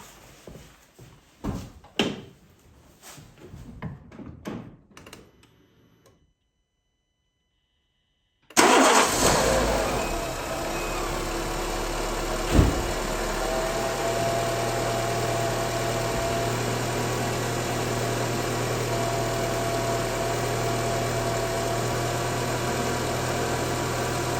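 A car engine cranks and catches after a few seconds of silence, then settles into a steady, close mid-pitched idle that continues to the end.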